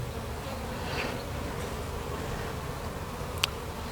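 A dense, steady hum of many honeybees buzzing close by at an open, crowded hive during an inspection, continuous throughout with a faint click near the end.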